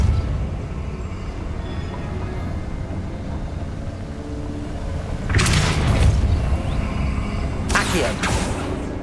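A Depulso spell effect in Hogwarts Legacy lands as two booming, whooshing bursts in the latter half, standing out over a low, rumbling game ambience.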